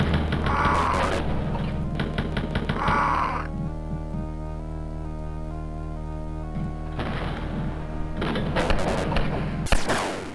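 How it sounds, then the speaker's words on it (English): Machine gun and chain gun fire in the game Atomprojekt comes as rapid rattling bursts at the start and end, with a tonal game hum filling the quieter middle stretch. "the machine and the chain gun simply consumes ammo way too fast"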